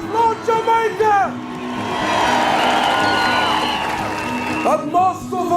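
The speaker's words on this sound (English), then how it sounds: "Countries like Jamaica, who recognized the state of Palestine last week, applaud Jamaica." A large rally crowd cheers and applauds in a loud, sustained wave for a few seconds, with a speaker's voice before and after.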